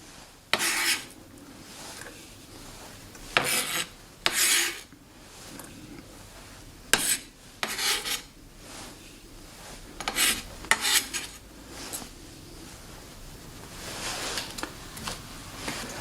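A knife slices down through a scored onion on a cutting board, making a series of close, crisp rasping cuts in irregular bursts with short pauses between them.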